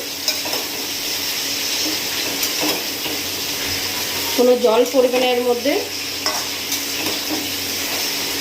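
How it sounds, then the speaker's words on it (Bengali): Water lily stems frying in a pan while being stirred, a steady close sizzle with scraping stir strokes, and a voice talking briefly in the middle. "এইভাবেই নেড়ে ছেড়ে আমি রান্নাটা করে নেব"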